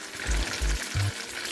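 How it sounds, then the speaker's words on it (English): Chicken cutlet (Milanese) frying in a hot pan, with a steady sizzling hiss and a few low thumps, as if the pan or the meat is being moved, heard up close with no talking. "So you need your pan to be quite hot, and we're going to let this fry for, well, till it's brown on the other side"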